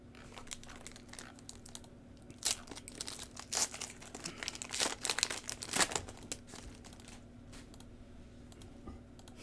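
Stuffing paper pulled from a football trading card box crumples and crinkles in close, irregular bursts of crackling, growing busier in the middle before settling, with a faint steady hum underneath.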